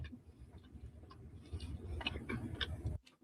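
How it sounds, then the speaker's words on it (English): A woman's jaw clicks as she chews: a quick series of small, sharp, close-up clicks over soft mouth noise, ending abruptly. "Listen as it clicks in her jaw."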